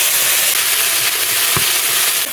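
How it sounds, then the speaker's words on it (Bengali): Cumin seeds, chillies, ginger and cumin paste fry in a little oil for a Bengali rohu fish curry with drumsticks, giving a steady, close, loud sizzle throughout with one brief sharper crackle partway through. "হালকা একটু তেল দিয়ে একটু জিরে দুটো লঙ্কা আদা আর জিরে বাটাটা একটু তেলে ভেজে"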